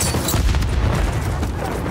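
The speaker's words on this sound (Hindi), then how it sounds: "ग्रेनेड यार फटा था" Grenade blast in Call of Duty: Modern Warfare III, a heavy booming explosion filling the whole two seconds with dense low rumble and scattered debris crackle, loud and close amid game combat noise.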